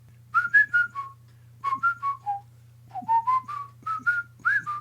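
A person whistles a tune in short bright phrases with brief pauses between them, clear and close over a faint steady hum.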